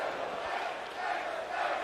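A big esports arena crowd roars and cheers continuously through a tense CS:GO clutch at a major playoff match between Astralis and Team Liquid, a dense steady wall of voices with small swells.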